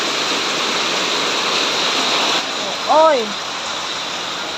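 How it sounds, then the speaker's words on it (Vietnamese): A heavy downpour after days of hot weather roars as a loud, steady hiss of rain, with a brief exclamation from a voice near the end. "mưa như xối xả, mưa khủng khiếp."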